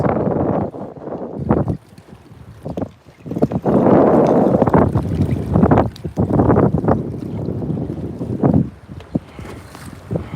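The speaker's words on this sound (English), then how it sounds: "I don't know if you guys can hear the wind" Strong gusting wind roars and buffets the microphone on a bass fishing boat, rising and falling in loud bursts with water noise underneath.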